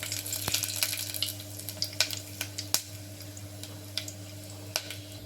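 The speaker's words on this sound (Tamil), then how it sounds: "இப்போ நம்ம தாளிக்கிற பொருள் எல்லாம் எடுத்து போட்டுக்கணும்." Tempering spices for mushroom biryani crackle and pop in hot oil, a soft steady sizzle broken by scattered sharp little spits, heard close with a low background hum.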